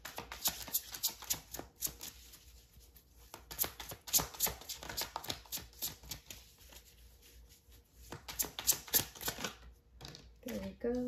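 Queens of Hip Hop Oracle cards shuffled and pulled, rapid papery riffles and taps in bursts close by, with a brief pause partway through.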